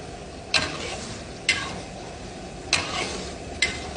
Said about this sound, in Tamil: தவு போட்டு நல்லா கிண்டிட்டு